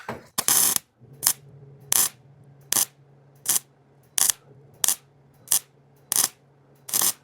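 Short bursts of MIG welding on a rusty steel floor pan from a 1941 Mercury, about ten sharp crackling spurts spaced roughly every half to one second, close and loud, with a low steady hum between them.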